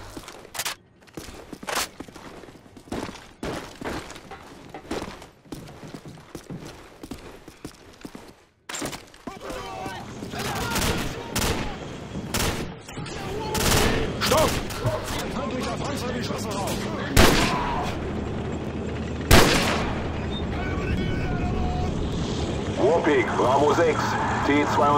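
Gunfire in the video game Call of Duty Modern Warfare: sharp bursts of shots and heavy blasts, sparse early then denser combat noise, with people talking over it.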